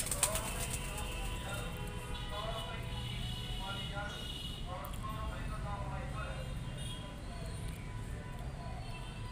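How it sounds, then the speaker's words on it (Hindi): Pigeons newly kept as pets coo softly and rustle in the background while a voice talks steadily over them, with faint wing flutters now and then. "आप सोच रहे होंगे कि ये नए नए कबूतर हैं और ये उड़ नहीं रहे हैं"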